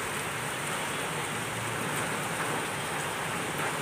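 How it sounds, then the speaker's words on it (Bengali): Rain driven by wind, a dense, even hiss of steady rainfall holding at constant loudness throughout, with no voices. "দেখুন হাওয়া ছেড়েছে যেমনি, সেমনি বৃষ্টি দেখুন।"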